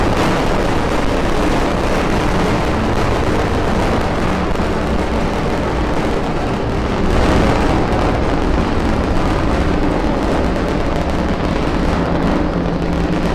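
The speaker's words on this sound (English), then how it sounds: "A successful liftoff from Pad 40 for its first Starlink rideshare, carrying 3 Planet SkySats and our SpaceX Starlink satellites" A SpaceX Falcon 9 rocket lifting off from Pad 40 produces a loud, dense, continuous crackling roar that stays steady and overpowering throughout, heard from a distance outdoors with no talk.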